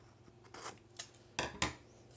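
Scissors cutting a bevelled corner of a notebook cover, a few short crisp snips close by, the last two louder, over faint background hum.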